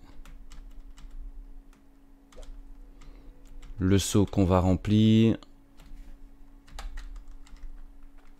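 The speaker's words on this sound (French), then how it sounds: "j'avais un petit problème avec mon clavier, c'est réglé" Computer keyboard keys click in scattered, light taps before and after a short stretch where a person speaks, the typing fairly close but soft.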